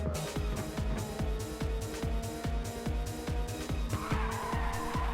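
A race car drifts through a turn in the PSP game Ridge Racer 2, its tires squealing over a loud, pulsing engine drone that repeats in a quick rhythm, with a brighter screech rising near the end.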